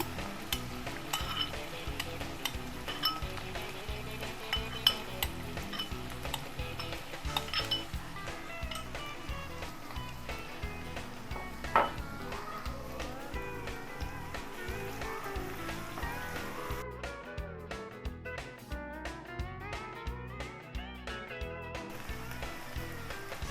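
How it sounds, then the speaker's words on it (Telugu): Onion and green chili paste sizzles in hot oil tempering for a tamarind curry with small fish, with steady frying hiss, spoon stirring and pan scrapes throughout, loud and close, with no voices. "తాలింపు వేగిన తర్వాత ఆనియన్ పచ్చిమిర్చి పేస్ట్"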